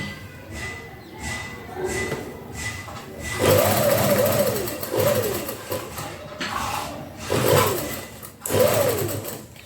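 A sewing machine stitches a shirt sleeve seam in loud, steady bursts with brief pauses between runs, a whirring motor rising and falling as the fabric is fed, with no talk over it.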